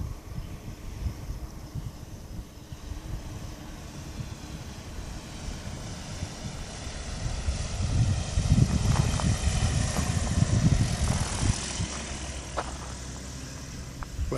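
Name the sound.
ultralight (ULM) aircraft engine while landing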